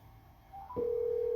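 An outgoing telephone call: a few brief dialing tones rise, then a steady, loud ringback tone holds without any voice.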